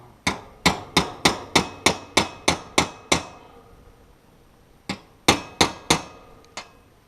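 Hammer striking a chisel into a travel trailer floor, a run of about nine evenly spaced sharp ringing blows, then a pause and four more, loud and close.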